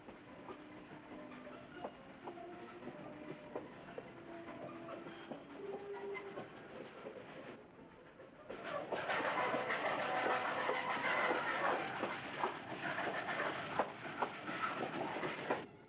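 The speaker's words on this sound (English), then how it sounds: "the last regularly scheduled steam train in Northern California" A steam train rumbles steadily along the Noyo River through the Northern California redwoods, with rhythmic clicking over the rails, growing louder and hissing more strongly about halfway through.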